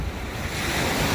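Big ocean waves breaking at a beach in La Palma, a close, continuous roar of surf with wind noise across the microphone.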